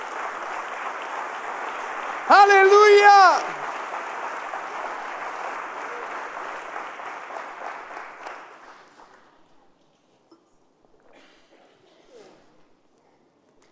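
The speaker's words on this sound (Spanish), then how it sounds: "Dale fuerte un aplauso a Jesucristo." A church congregation applauds Jesus Christ during a Sunday service, steady clapping broken by a shouted exclamation, then fading out and ending in near silence with a few stray claps.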